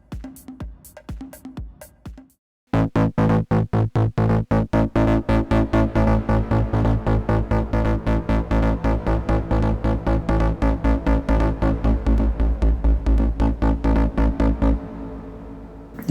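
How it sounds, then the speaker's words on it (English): A gritty synth bass from a Korg Volca, overdriven through a mixer, pulses in rapid repeated notes with a reverberant wash, loud and steady after a brief pause, then cuts off abruptly. "And then I will add a bit of reverb on that as well."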